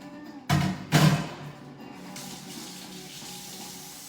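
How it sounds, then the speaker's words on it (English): Tap water running into a kitchen sink during hand washing, two strong splashing gushes at the start settling into a softer steady trickle, close and with no talk. "I gotta wash my hands."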